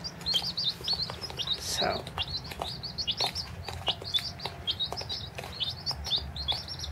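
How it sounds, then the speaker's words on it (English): Young chicks, among them an Australorp and a Rhode Island Red, peep in rapid, high repeated chirps close by, with some rustling and a brief flutter, and someone briefly speaks. "Yep, these are my little chicks."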